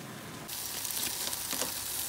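Baigan (eggplant) and tomatoes sizzling in a pan for Guyanese baigan choka and tomato choka, a steady close crackling hiss that swells louder partway through and continues with small pops, with no talking.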